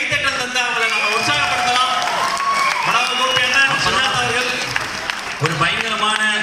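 An audience at a Tamil film audio launch claps in a steady wash of applause and crowd noise, with a loud amplified voice speaking over it throughout.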